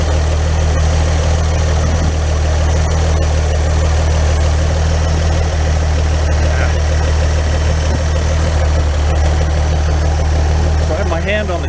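A truck engine idles steadily throughout, a loud, low, constant rumble with vibration after an intake and exhaust repair, with no talk over it.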